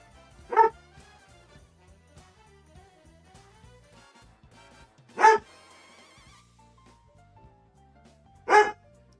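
A pet dog barks three separate times, spaced several seconds apart, each a short sharp bark close by in an otherwise quiet room.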